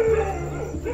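A village dog in Indian lion country gives a brief, wavering howl-like bark, moderately distant, with no voices.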